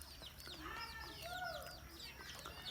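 A red rooster clucks in short, curved calls, repeating steadily at a faint, slightly distant level over a low background hum.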